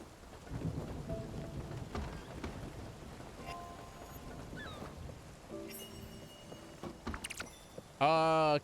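A thunderstorm in the Spiritfarer game plays as a low, steady rain wash with soft rumbling, faint under a player talking, and a few brief chimes and game tones near the end.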